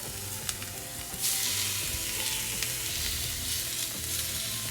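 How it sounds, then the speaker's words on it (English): Thin pounded, seasoned pork pieces dropped into a seasoned skillet, the sizzle surging suddenly to a loud, steady hiss after an initial clatter, close up with no talking. "I'm gonna take a piece of the pork that we have pounded thin and seasoned, and I'm gonna throw it in the skillet"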